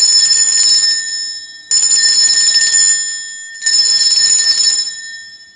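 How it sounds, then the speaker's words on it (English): A bright, shimmering bell rung three times to cleanse the space, each strike ringing with sustained high overtones that slowly fade before the next, loud and close with no talking. "I'm going to ring a bell here."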